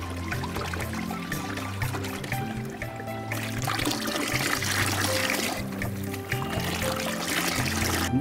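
Oil-soap emulsion is poured into water and stirred for a garden pest spray, a continuous trickling, sloshing stream that runs close and steady throughout with no voices.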